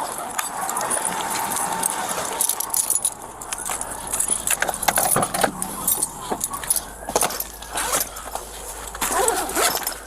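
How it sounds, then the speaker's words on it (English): Keys jangle repeatedly in bursts, close by, alongside zipper-like rustling and faint traffic in the background, with no clear talk. "Keys."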